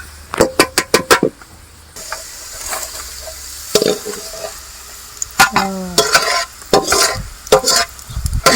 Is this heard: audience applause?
no